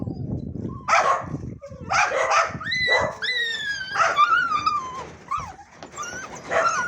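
Several puppies yip, whine and bark in high, squeaky bursts, close by and almost continuous throughout.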